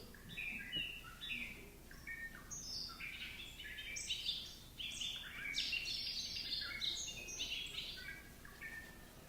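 Bright, intricate bubbling song of a bobolink pours out in rapid, tumbling phrases, close and clear over a quiet outdoor background.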